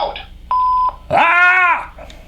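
A Hasbro Star Wars toy voice recorder gives one short, steady electronic beep, loud and close, followed immediately by a loud shout into the recorder.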